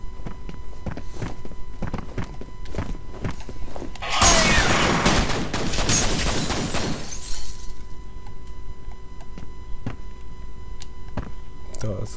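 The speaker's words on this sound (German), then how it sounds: "Müssen wir erstmal ein bisschen Pistole benutzen." Sharp pistol shots crack at irregular intervals in the F.E.A.R. video game, broken midway by a loud few-second burst of crashing, shattering noise, then more isolated reports.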